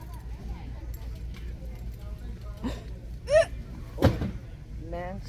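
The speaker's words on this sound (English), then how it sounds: "Still got the hiccups." Short hiccups erupt a couple of times over steady background noise while shopping in a Dollarama store, each a brief sharp catch of breath.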